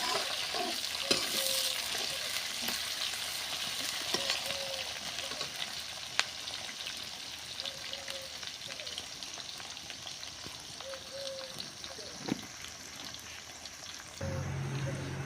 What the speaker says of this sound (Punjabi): ਆਪਾਂ ਤੜਕਾ ਭੁੰਨ ਰਹੇ ਹਾਂ ਜੀ